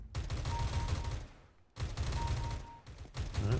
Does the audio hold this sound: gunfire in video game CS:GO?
yes